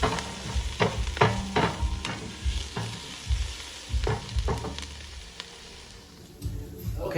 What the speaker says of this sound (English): And then we're gonna go ahead and add our onions.